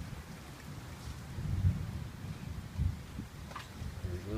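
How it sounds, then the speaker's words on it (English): Thunder from an approaching storm rolls in the distance as a couple of faint, low rumbles over a steady, soft outdoor hiss. "There's a little thunder there,"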